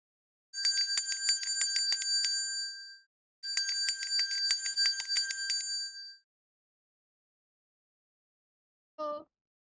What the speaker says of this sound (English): It was a sound of a bell ringing, a simple sound of bell.